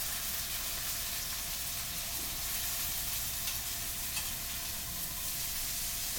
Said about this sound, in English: you want to sear it on each side for about a minute